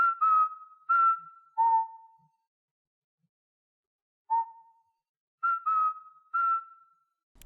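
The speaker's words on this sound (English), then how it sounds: "Another detail I love is the absence of music when a room is cleared, just leaving us with Luigi's whistling." In the Luigi's Mansion video game, the character whistles a short, clear tune in a cleared room with no music. Bright, pure notes come in three quick phrases, a long silence, then more phrases, close and unaccompanied.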